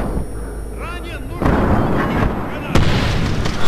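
Gunfire bursts loudly in Medal of Honor Warfighter, two sudden heavy volleys cutting in after a brief voice, with dense crackling shots continuing through the rest of the moment.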